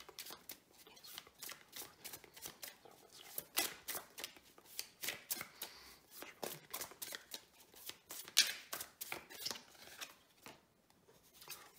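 Tarot cards being shuffled and drawn, a dense run of close papery flicks and snaps that continues steadily, with a short quieter stretch near the end.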